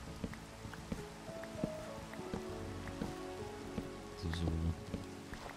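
Steady rain patters in a stormy scene in Minecraft, a dense even hiss that keeps going, with scattered small clicks and a few brief spoken words layered over it.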